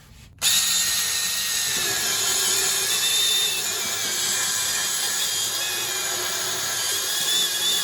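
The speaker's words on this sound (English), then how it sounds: "Now I'm using a board on the outside to keep the drill bit from blowing out the side of the cornhole frame." A power drill bores a bit through a wooden cornhole frame leg backed by a board, a loud, steady high whine running continuously after a sudden start, with no talking.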